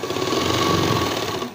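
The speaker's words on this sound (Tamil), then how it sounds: "டபுள் தையல் போடுங்க" Sewing machine double-stitching the sleeve of a chudidar top, a steady fast mechanical whirring run of needle strokes lasting over a second before slowing to a stop, close and alone.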